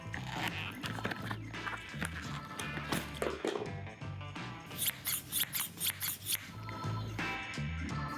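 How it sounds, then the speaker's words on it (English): New fabric scissors snip through fabric for a white dress, a series of crisp close cuts, quickening into a rapid run of snips midway, with soft handling noise in between. "Very excited to use my new fabric scissors."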